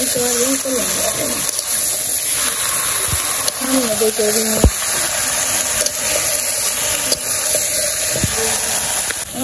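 Water poured into a pan of browned, fried meat in a home kitchen, a continuous gushing hiss over the sizzle, with a few spoon scrapes and knocks against the pan.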